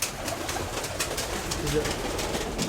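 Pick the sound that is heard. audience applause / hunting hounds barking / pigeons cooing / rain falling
pigeons cooing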